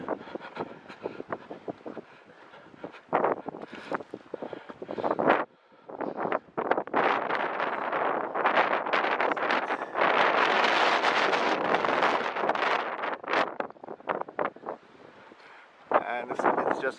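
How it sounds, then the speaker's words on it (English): Strong wind batters the microphone high on Gunung Lawu mountain, a loud continuous roar with gusty surges and brief lulls, and a voice speaks under it. "Extremely windy over here."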